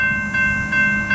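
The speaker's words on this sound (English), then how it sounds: "So I'm hoping these engineers can get this freight train up to speed in time" A CSX freight train pulling slowly out of a siding and working up to speed, a steady low rumble of diesel locomotives with a sustained tonal hum, heard close and continuous.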